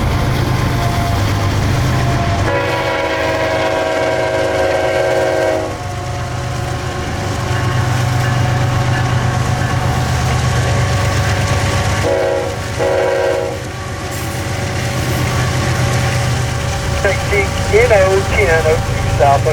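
A long coal train rumbles past loudly with steady wheel clatter, while a locomotive horn sounds in several long blasts over the noise; faint radio-like chatter comes in near the end.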